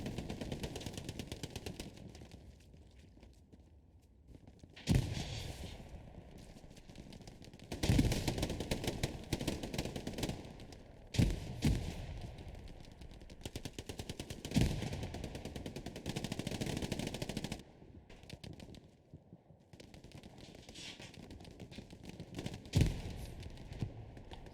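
Bursts of machine gun fire from an MG in Hell Let Loose, a World War II shooter, rattle in repeated volleys of a few seconds each, loud and close, with scattered distant gunfire and battle noise filling the gaps.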